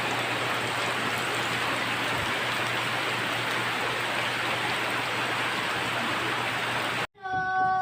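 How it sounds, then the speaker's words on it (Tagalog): Steady rain pours down without a break, a dense close hiss of drops hitting the ground and surfaces, cutting off abruptly near the end. "Dito na yung ulan."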